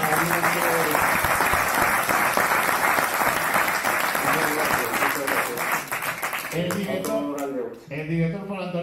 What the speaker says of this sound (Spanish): Aplaudimos ya, muy bien.